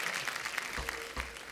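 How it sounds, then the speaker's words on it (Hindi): A short burst of studio audience clapping on a comedy talk show, steady and moderately loud, filling the moment without voices. "एक बार जोरदार तालियां हो जाएं हमारे मेहमानों के लिए"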